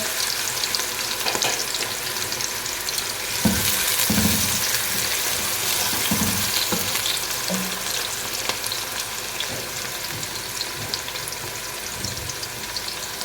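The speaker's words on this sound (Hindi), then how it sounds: "प्याज को हमने अच्छी तरह गोल्डन ब्राउन करना है।" Onions frying until golden brown for a dhaba-style daal mash, a loud, steady hiss and crackle with occasional stirring knocks and scrapes, lasting throughout with no talking.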